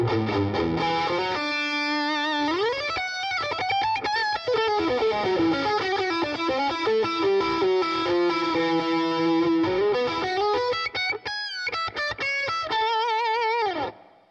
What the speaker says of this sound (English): This next one is called Horse Meat, and it's basically just an overdrive pedal.